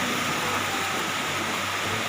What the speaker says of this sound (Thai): ด้านหลังเราคือฟ้าน้ำตก มีชั้นๆไหลลงมาเลย